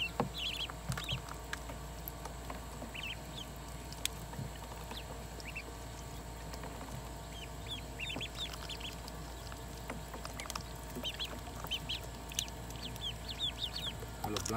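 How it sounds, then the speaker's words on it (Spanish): Newly hatched ducklings and chicks peep and chirp in scattered bursts while feeding and playing in a farmyard, with steady low background noise and occasional faint clucking. "Mire, tía Sonia, mire los patos cómo andan jugando"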